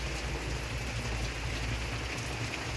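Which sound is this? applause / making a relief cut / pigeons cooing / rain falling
rain falling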